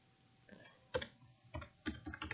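Fingers type on a computer keyboard while writing a WordPress blog post: quiet, close clicks in short irregular bursts that grow busier toward the end.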